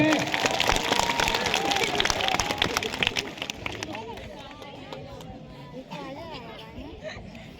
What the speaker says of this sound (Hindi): रावण महाराज जी की तालियों से स्वागत करें